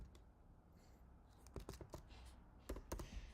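Faint keyboard typing on a computer: a quiet stretch, then a short, irregular burst of close keystroke clicks.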